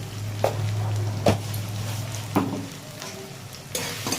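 Garlic frying in a pan for a prawn and pointed gourd curry, a steady sizzle with several sharp stirring scrapes at intervals, close and continuous, no talking.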